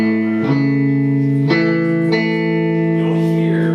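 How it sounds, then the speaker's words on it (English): An electric guitar plays through a boutique amp with thick, fat distortion, with about four sustained chords struck in turn, each ringing with rich harmonics and no talk over them. "hear, you know, with a good fat distortion"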